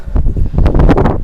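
Strong wind gusts roar steadily across an open microphone at Brean Fort, a coastal gun emplacement in Somerset, with a continuous loud buffeting that swells and dips without a break.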